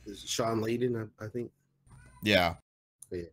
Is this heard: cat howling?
yes